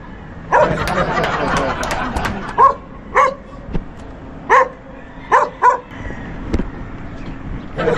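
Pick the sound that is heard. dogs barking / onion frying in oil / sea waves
dogs barking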